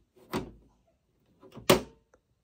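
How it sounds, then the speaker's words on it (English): The magnetic filter door of a Levoit smart True HEPA air purifier is pushed shut, giving two soft plastic clicks about a second apart, close and short. "from here, we just go ahead and close up the door"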